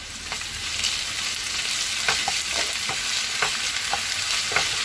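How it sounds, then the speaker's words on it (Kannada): Ginger garlic paste frying in a pan for kushka rice gives a steady, bright sizzle, with the scrape and clink of a stirring spoon breaking in now and then. No one speaks. "ಈಗ ನೋಡಿ ನಾನು ಶುಂಠಿ ಬೆಳ್ಳುಳ್ಳಿ ಪೇಸ್ಟ್ ಹಾಕ್ತಾ ಇದ್ದೀನಿ"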